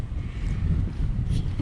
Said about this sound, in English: Bloody windy today.